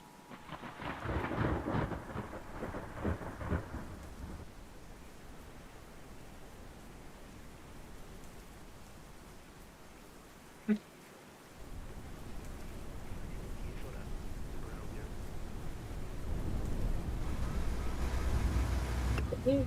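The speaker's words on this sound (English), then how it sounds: "Looks like it might be actually rain." Thunderstorm with rain in the tornado-chasing game Twisted: low rolling thunder swells in and out over a constant rain hiss, with a sharp crack partway through and a heavier rumble building at the end.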